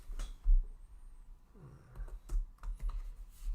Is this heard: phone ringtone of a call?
no